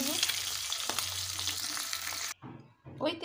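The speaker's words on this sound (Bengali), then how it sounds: "ডিমগুলোকে ভালোভাবে ভেজে নেব।" Eggs frying in oil in a pan, a steady close sizzle with faint stirring that cuts off abruptly, followed by brief quieter crackles.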